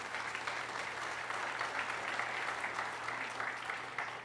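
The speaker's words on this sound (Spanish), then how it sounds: "denle un aplauso a esa palabra" Congregation applauding during a Christian sermon in church, steady sustained clapping from many hands filling the room at moderate volume throughout.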